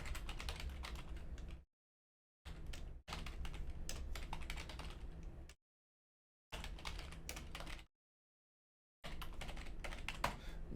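Computer keyboard typing while text is entered in Inkscape: rapid, close key clatter in four bursts separated by short silent pauses, with no voices.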